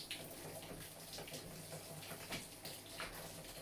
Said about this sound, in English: Just going to quickly wash my hands so that they're not